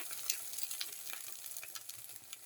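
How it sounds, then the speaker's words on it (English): Black pepper and red spinach omelette frying in a pan, a steady soft sizzle with small crackles, fairly quiet and close. "and let it fry further."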